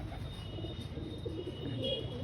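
Domestic pigeons coo softly as they land near a house, with low, gentle, rolling calls over faint background noise.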